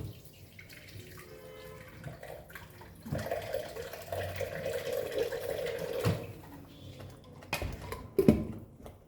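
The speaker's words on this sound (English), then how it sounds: "we'll add the water which is we need over here" Water poured from a tap into a cooking pot for dal makhani, a soft splashing stream lasting a few seconds between quieter clatter and drips, faint and close.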